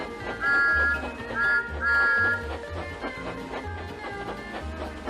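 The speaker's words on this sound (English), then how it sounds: "Everywhere Thomas went, he blew his whistle even louder." A steam engine's whistle toots three short, bright times in quick succession early on, over a soft musical backing.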